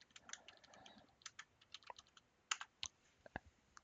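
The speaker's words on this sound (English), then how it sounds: "just hit the enter key" Computer keyboard keys tapped in a quiet room: a scattered run of sharp, close clicks with uneven gaps, ending in a few firmer, isolated presses like the enter key.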